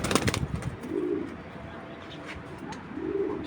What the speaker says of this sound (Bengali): এটা হলো অরিজিনাল একটা পাইট কবুতর।